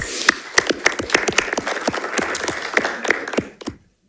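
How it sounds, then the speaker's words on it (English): A board meeting audience bursts into applause, the claps loud and dense at first, then thinning and trailing off into quiet after about three and a half seconds. "So if we could give him a round of applause."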